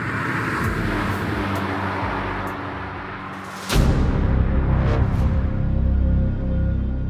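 Renault Megane RS300 Trophy driving on a high-speed oval, a steady sustained engine and road roar that jumps louder midway and stays loud, with a few brief sharp clicks.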